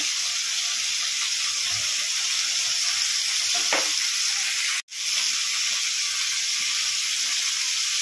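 Steady close sizzle of food frying in a pan after salt and turmeric powder are added, a continuous hiss with a brief stir near the middle and a sudden cut-out partway through, no voices.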